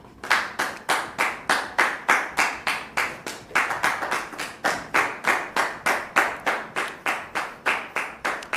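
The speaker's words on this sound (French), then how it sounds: "Merci de recevoir notre sœur sous vos applaudissements, s'il vous plaît." Congregation at a church service clapping in unison, steady rhythmic claps close by at roughly two per second, with a brief uneven patch midway before the beat resumes.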